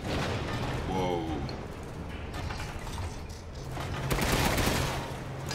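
A cannon fires during a Resident Evil Village boss fight, giving a loud burst of rapid booming blasts with mechanical clanking and ratcheting as the weapon cycles, all dense and close.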